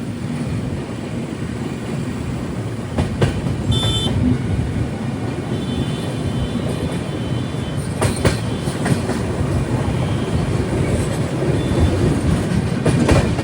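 A long-distance express passenger train, the Vivek Express on the Dibrugarh to Kanniyakumari route, rumbles steadily along the rails with rhythmic clickety-clack wheel beats and occasional metallic clanks, loud and close, without a break.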